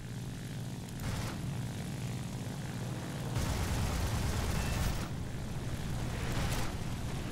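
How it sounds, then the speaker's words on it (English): A propeller-driven Spitfire fighter in the War Thunder combat game drones steadily and loud, its engine note swelling past at least twice in close, sweeping fly-bys with no voices over it. "Alright, so we got a Spitfire to deal with."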